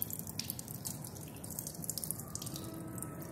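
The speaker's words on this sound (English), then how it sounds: "Just under the tap, she's cooling it just under the tap." Faint tap water trickling and dripping into a laboratory sink as a test tube is held under the stream to cool it, a soft steady patter with no talk.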